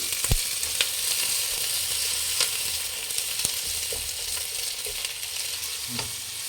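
Onion frying in a pan with green chilli and curry leaves for egg rice, a steady broad sizzle running throughout with a few faint clicks of a spoon against the pan.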